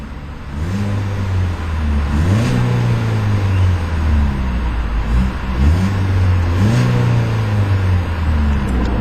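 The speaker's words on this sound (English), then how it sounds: "You don't get a whole lot of car shake when you rev the engine." Close, loud four-cylinder engine of a 2012 Ford Focus SE at idle, revved in a few quick blips that climb and settle back to a steady idle, heard alone without voices.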